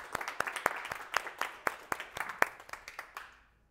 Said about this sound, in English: I would like to have a big applause for her already.